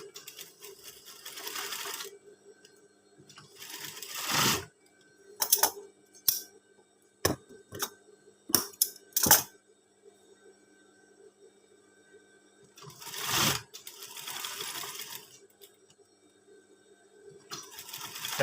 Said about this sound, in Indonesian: Kemudian kita jahit untuk tutup saku